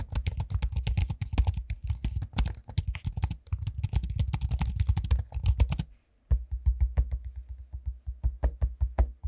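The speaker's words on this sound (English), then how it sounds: "Here's an audio sample of me using both the keyboard and the trackpad." Rapid typing on a 2023 Dell XPS 15 laptop keyboard with trackpad clicks, a dense run of close, crisp key taps, a brief pause, then steadier, sparser tapping.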